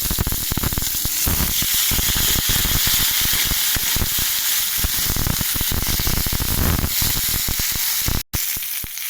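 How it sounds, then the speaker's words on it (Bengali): Potatoes and flat beans fry in hot oil tempered with radhuni, giving a loud, continuous close-up sizzle and crackle that drops out for a split second near the end. "তেলটা গরম হয়ে গেছে, আলু আর শিম ভাজবো।"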